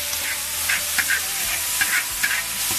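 Cucumber slices and pork stir-fried in a wok, a loud steady sizzle with a spatula scraping and tossing in irregular strokes, close by, with no talking.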